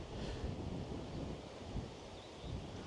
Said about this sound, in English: I can already tell the wind is quite strong, being funneled down Coombe Bottom